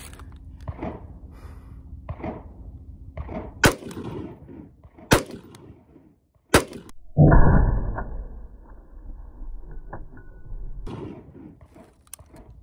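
Three sharp rifle shots from a 10.5 inch barrel firing 62 grain Winchester ammunition through a GFHC muzzle device, evenly spaced and loud outdoors, each a crisp crack with a short tail, followed by rustling and handling noise.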